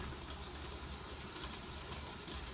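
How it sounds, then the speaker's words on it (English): Steam hisses steadily and strongly from the vent on a pressure canner lid while frozen vegetables are being canned, a continuous broadband rush that stays constant and fairly close throughout. "So now we're starting to get a good vent of steam coming out"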